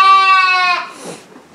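A sheep or lamb on a farm gives a single loud, close, wavering bleat that breaks off abruptly and fades into a quiet breathy tail.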